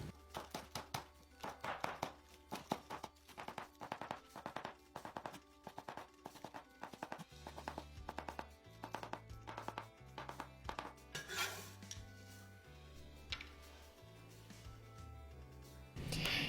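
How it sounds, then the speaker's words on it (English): A kitchen knife minces scallions on a cutting board, producing rapid, crisp chopping taps in quick bursts, close up and loud, with no talking. "first we're gonna chop off the white part and then mince it into small pieces"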